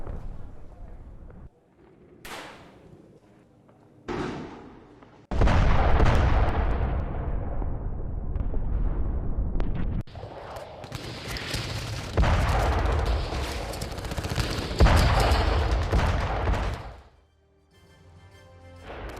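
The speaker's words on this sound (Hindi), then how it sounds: "एयर स्ट्राइक के साथ साथ जमीन पर इजरायली टैंक पर गोले बरसा रहे हैं।" Israeli tank shelling and gunfire during the Israel–Gaza war in southern Gaza: loud booming blasts and sharp bursts of fire, several heavy impacts with rumbling decay between them, dense and sustained through the middle before dropping off.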